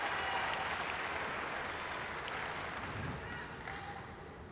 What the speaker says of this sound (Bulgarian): Публиката се опитва да окуражи българското момче.